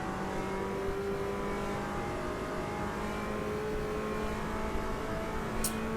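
A GT-class race car engine in the sim racing game Automobilista 2 drones steadily at high revs, a continuous loud buzzing whine with slight pitch shifts as gears change, heard alone without voices.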